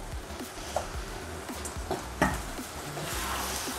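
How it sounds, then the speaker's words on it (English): A pot of peppered snail in pepper sauce (Igbin Alata) being stirred while it cooks, giving soft scraping and knocking strokes against the pot over a low sizzle, with no talk. "Now, I'll stir my snail together with it and allow it to cook for about 10 minutes."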